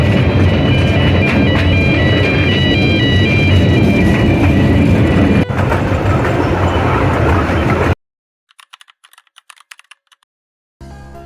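Loud, continuous rumble and clatter of a heritage railway train in motion at Statfold country park, steady for several seconds, then abruptly cutting to near silence with faint scattered clicks.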